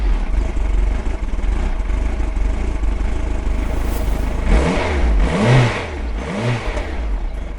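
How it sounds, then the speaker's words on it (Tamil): A motorbike engine revs in a domestic setting from a Tamil TV serial, a steady mid-pitched drone rising into two swelling throttle bursts near the end, fairly loud and close with no talk. "ஆமா, பைக் சத்தம் எங்க இருந்து கேக்குது?"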